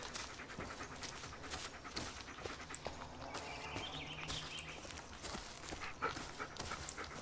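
Bullet the dog panting in the woods in Blair Witch, a steady soft breathy rhythm running under footsteps and rustling ambience, fairly close and at moderate level.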